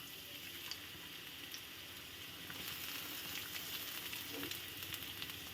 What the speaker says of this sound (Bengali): তো এর মধ্যে আমি দিয়ে দেব পেঁয়াজ আর রসুন কুচি করে রেখেছি, সেটা আমি দিয়ে দেবো তেলের মধ্যে।